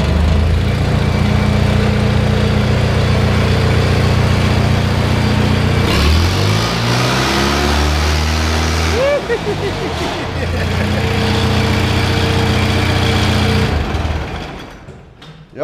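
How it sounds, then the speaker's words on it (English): A log splitter's small gasoline engine runs loud and close, then revs up with rising and falling pitch sweeps before settling back to a steady idle and winding down at the end. "rev it up a little bit where we got our splitter pressure set at"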